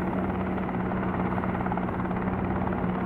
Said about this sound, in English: Don't want to over-rev the helicopter.